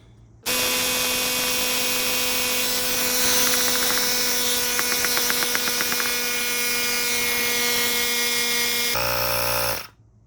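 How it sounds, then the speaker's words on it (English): Air is pumped into a metric tire on a Yamaha SR500 motorcycle: a loud, steady mechanical whirring drone runs for about nine seconds, then shifts briefly and cuts off. "then I'm gonna put some air in it"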